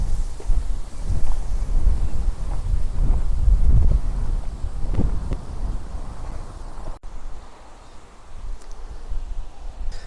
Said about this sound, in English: It's a bit windy today actually, but that's not too bad